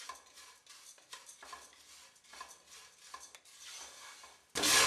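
Flattened rice (aval) dry-roasting in a pan, stirred with a spoon in repeated scraping strokes with soft clinks and light rustling close up, followed by a sudden loud burst at the end.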